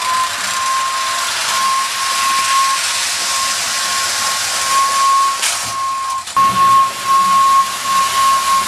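A Marx clockwork toy train's thin, steady steam-style whistle tone runs through a constant hiss, with a brief dropout and a louder clatter near the end.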